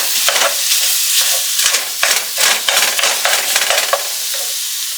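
Ground beef and onion sizzle and crackle in a pan. A spatula scrapes and stirs in irregular bursts over a steady frying hiss, close and fairly loud, with no voices.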